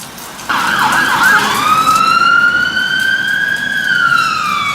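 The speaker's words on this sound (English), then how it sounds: "Oh, that was a fire engine." A fire engine's siren passing during a thunderstorm in Northamptonshire, UK: a loud wailing tone sweeps up and then slowly down, with clear harmonics over a background of rain hiss.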